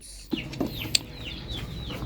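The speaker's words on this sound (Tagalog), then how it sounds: "meron tayong bagong manok" Chickens cluck and chirp softly at close range over a steady low background hum, with a brief flutter.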